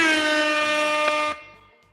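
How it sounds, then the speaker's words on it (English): A loud, steady air horn blast holds for just over a second, then cuts off into a fading echo. "Yes, give them air horns."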